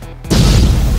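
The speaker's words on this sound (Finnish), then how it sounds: "Ne räjähtää lisää!" Sudden loud boom of a smoking, damaged machine exploding in Roblox Brookhaven, a quiet lead-in giving way to a sustained, rumbling blast that fills the rest of the moment.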